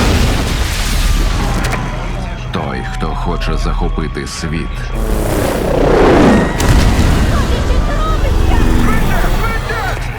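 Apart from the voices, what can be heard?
explosions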